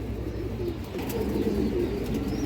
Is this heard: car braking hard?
no